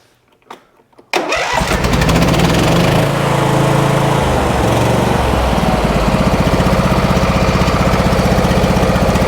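A lawn tractor's small twin-cylinder engine cranks over after a few sharp clicks, then catches and runs loud and steady with a rapid, even mechanical throb for several seconds, with no talking.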